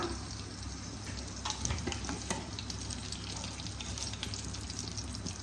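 Bay leaves and whole spices sizzle in hot oil while Malai Kofta Curry is cooked, producing a steady close frying hiss with faint stirring clicks throughout and no talking.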